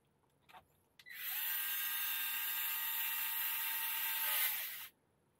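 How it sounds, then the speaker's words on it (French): An electric screwdriver, torque set to its lowest, drives screws while reassembling an Arrma Mojave 4S RC car: one steady high whine of about four seconds, close and loud, after a couple of small clicks. "avec le tournevis électrique, ça va bien"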